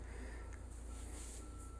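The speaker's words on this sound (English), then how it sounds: "Somebody's backing up right now, so you've got that continuous beep, beep, beep, beep, beep thing going on." Reversing beeps from a construction vehicle backing up, a steady faint repeating beep in the distance over a constant low rumble, no talking.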